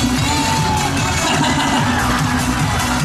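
Crowd at a Korean trot medley concert cheering and shouting loudly and continuously, with whoops rising over dense music-backed noise.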